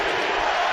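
Basketball arena crowd at an NBA playoff game between the Clippers and Pacers, a steady, loud wash of cheering and roaring.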